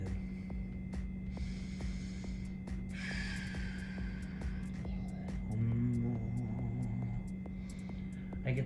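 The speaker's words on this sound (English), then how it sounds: "I gotta do a little breathing." A person doing breathing exercises during a mobility stretching routine takes slow, audible breaths and gasps over a constant low mechanical hum, with a few sharp ticking clicks scattered through the clip.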